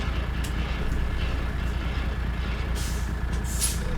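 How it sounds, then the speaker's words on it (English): Air brake hiss from a truck trailer in American Truck Simulator, a couple of bright hissing bursts near the end over a steady low diesel engine rumble, no talking. "Put the trailer brake on."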